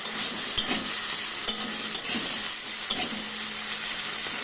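Dried shrimp shutki fries in hot oil with a dense, steady sizzle, while a utensil scrapes and taps the pan in a few sharp strokes, close up and alone.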